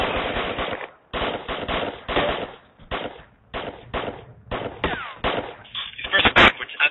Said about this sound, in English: I'm still taking fire here